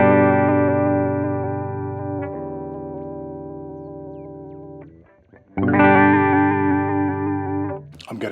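Chase Bliss Warped Vinyl MK2 chorus pedal with its ramp knob turned down, shimmering sustained chords that ring alone, a brief dropout near the middle, then a loud swell of wavering modulated tone.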